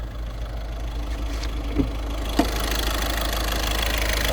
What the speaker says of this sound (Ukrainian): Ось, будь ласка рівнесенький, працює, торохтить, все як потрібно для дизеля.